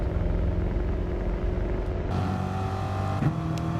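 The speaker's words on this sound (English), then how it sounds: "upshifting into fourth gear and full throttle out" A Corvette Gr.4 race car engine in GT Sport roars at full throttle around the Spa Francorchamps circuit, a loud, dense, steady drone that climbs in pitch and briefly dips during a shift.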